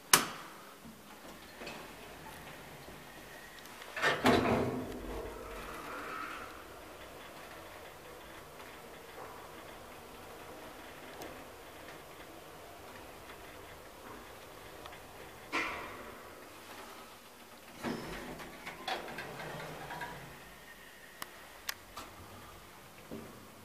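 A 1990 SEMAG traction elevator in Porvoo, Finland, rides with a low steady hum, broken by soft clicks and thumps at intervals, and a couple of louder bumps as the car starts and moves.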